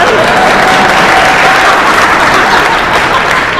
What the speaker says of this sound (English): I brought some people here who were supposed to clap really loudly when I got up here.